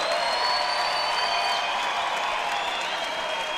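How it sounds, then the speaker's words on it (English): A college basketball arena crowd applauds on senior night during a timeout, a steady, dense wash of clapping heard from a distance with no talk over it. "And here's the big applause for Grayson Moore."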